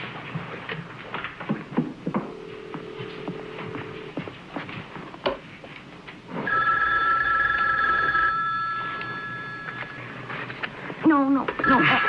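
A telephone rings in a quiet room during a science fiction horror film, its steady electronic tone repeating for several seconds over low background noise, with faint speech around it.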